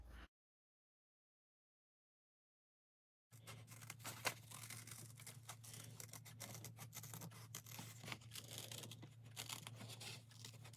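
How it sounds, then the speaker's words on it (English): Scissors cut through paper during a gatefold three-in-one album craft. Steady snipping and rustling sit over a low hum after a silent opening, with no talking. "You're going to cut just a little bit, and then after the heart, and then you can finish with scissors"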